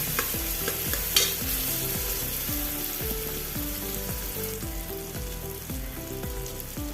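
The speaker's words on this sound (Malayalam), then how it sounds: "ഒന്ന് ഇളക്കി കൊടുക്കാം" A spoon stirring spicy Malvani chicken masala in a hot pan, with a steady sizzle and a regular scraping rhythm of about two strokes per second, close and alone.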